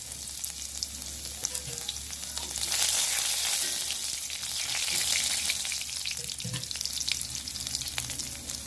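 Thin-sliced onion frying in hot coconut oil in a pan after mustard seeds have popped, a steady close sizzle with crackling spits and stirring, no voices.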